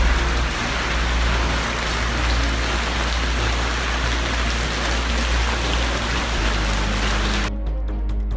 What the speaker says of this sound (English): Heavy rains are causing havoc in central and southern Chile